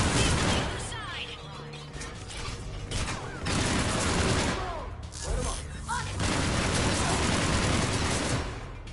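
Gunfire in the Mass Effect video game, dense bursts of rapid shots and booms continuing almost without a break, loud and mixed with game sounds and voices speaking.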